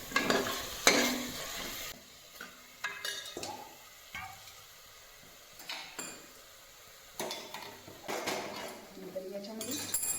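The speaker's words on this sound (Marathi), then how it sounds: "मटण घातल्यानंतर आहे ना व्यवस्थित हलवून घेते जेणेकरून हा मसाला पूर्ण मटणाला व्यवस्थित लागेल" Mutton is stirred into masala in a pot for a spicy mutton rassa, producing bursts of spoon-on-metal scraping and clinks with a light sizzle between them, while someone talks over the cooking.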